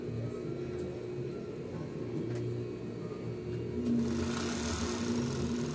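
A Siruba-type overlock sewing machine with a conventional 3450 rpm motor stitching fabric, a steady whirring hum at moderate volume that grows brighter and louder near the end.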